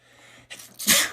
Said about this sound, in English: 4 sneezes in one row